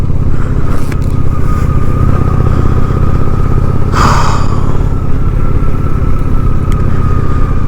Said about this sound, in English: the bike is just running like tip top today